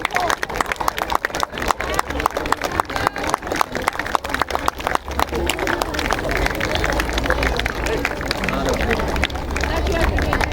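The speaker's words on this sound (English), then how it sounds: "Everyone give a huge round of applause for the winners." School audience at a Children's Day celebration applauding the championship-winning boys' team, with dense, continuous clapping that builds into a loud, steady roar mixed with crowd chatter.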